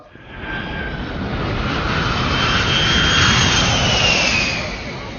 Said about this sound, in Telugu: the flight is taking of